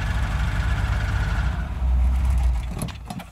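A cold-started car engine idles roughly on seven cylinders, a steady low rumble with an uneven lope that swells slightly midway, ending with a few faint clicks.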